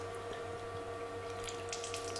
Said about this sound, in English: when they are open, water is going out through those